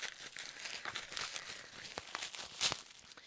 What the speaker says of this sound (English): here it comes in a little bubble wrapped package